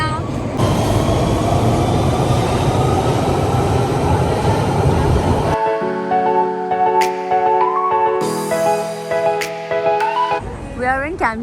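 A London Underground train pulls away from Oxford Circus station, loud rumbling and rushing noise building before giving way to a whining motor tone with shifting pitches as it accelerates, with people talking in the carriage.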